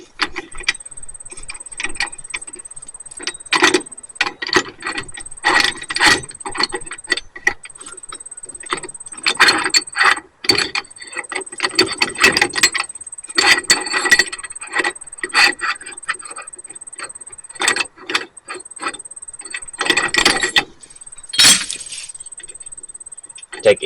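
A hub and drum puller is spun by hand to pull a brake drum off an older vehicle, giving irregular metallic clicks, ratcheting and clanks over a steady high whine, with someone talking throughout.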